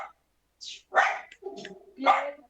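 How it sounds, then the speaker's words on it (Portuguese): A female dog barks in several short sharp bursts, fairly close, with quiet gaps between them. "a minha cachorra tá latindo, gente, desculpa"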